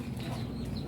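Soft, low clucking of a chicken nearby, a brief murmuring burst.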